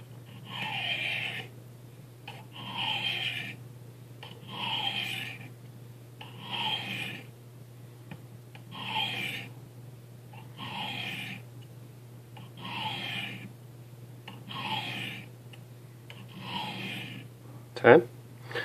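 A knife blade is drawn across the ceramic crock sticks of a Lansky TurnBox sharpener in quiet, evenly spaced rasping strokes, about one every two seconds, ending with a sharp click.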